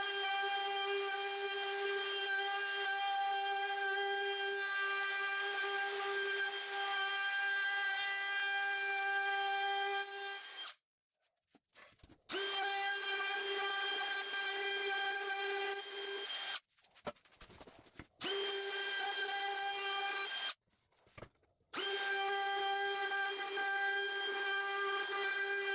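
A router rounding over small wooden table legs whines loudly and steadily in long passes, cutting out briefly three times between runs before spinning back up.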